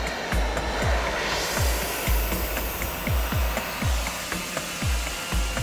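A torch heats a tank's armor plate around a rusted bolt, giving a steady loud roaring hiss, with repeated sharp metallic ticks and knocks in the workshop.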